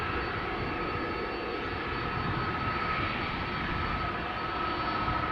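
A Delta Air Lines jet, Flight 179 bound for Portland, Oregon, departs Amsterdam Schiphol, its engines giving a steady, broad roar with a thin sustained whine held evenly throughout, no voices present.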